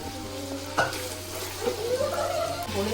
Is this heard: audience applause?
no